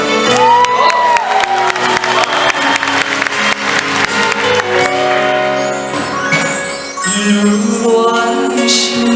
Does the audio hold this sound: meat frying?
no